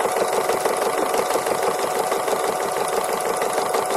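Sewing machine running continuous free-motion embroidery with zigzag stitching, a fast, even mechanical whirr and needle chatter held steady and close throughout, with no voices.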